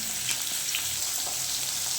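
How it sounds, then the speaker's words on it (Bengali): Fish pieces fry in oil in a pan, a bright steady sizzle close up, constant and even throughout with faint crackles, no speech. "তাহলে মাছগুলো একটু ভেজে নিই।"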